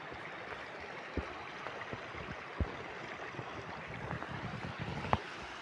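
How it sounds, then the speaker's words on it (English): Steady broadband rush of water from a small waterfall in the Drakensberg, constant and moderately loud, with a few faint knocks and splashes scattered throughout. "And a little waterfall."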